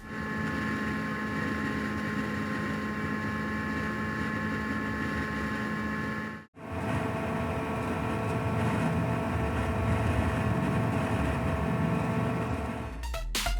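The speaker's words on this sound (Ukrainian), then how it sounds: "Послухаємо шум роботи проєкторів по черзі." Steady whirring fan noise from an LED projector runs evenly throughout, broken by one brief dropout midway, with a small click near the end.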